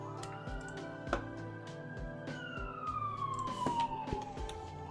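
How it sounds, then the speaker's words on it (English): A police siren wails in the background, its pitch sweeping slowly up and down over a steady low hum with soft knocks, moderately loud and alone without talk. "is there a police siren in the background?"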